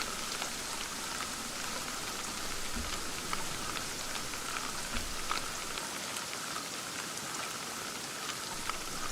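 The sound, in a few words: heavy rain at night in Fishing Sim World video game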